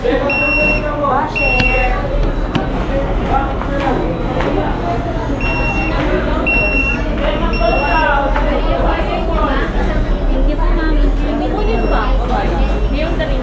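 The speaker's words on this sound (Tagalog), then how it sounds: "Shoutout po sa buzzer na nanginginig na." A vibrating restaurant pager buzzer gives short electronic beeping bursts that repeat over busy indoor chatter and a low constant hum, loud and close.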